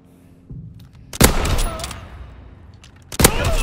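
Gunfire in a World War II video game, with two loud, close bursts of shooting, each trailing off into a long rumbling echo.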